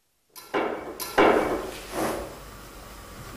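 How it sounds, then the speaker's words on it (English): Tacks hammered to fix a Sundeala baseboard surface to a wooden model railway framework, with three close, sharp hammer blows at uneven intervals, each ringing briefly in a quiet room. "it can now be tacked to the framework."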